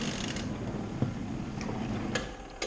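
A small portable mini washing machine runs on a Kodiak power station, giving a steady low mechanical whir and churn with a few faint clicks and ticks, close and continuous throughout.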